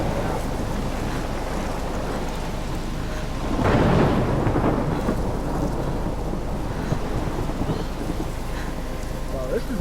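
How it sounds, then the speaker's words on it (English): Thunderstorm with rain in the video game Life Is Strange: heavy, constant rain hiss with a loud rolling thunder swell building midway, a dense, continuous storm roar throughout. "Well, this is a bad thunderstorm / tornado."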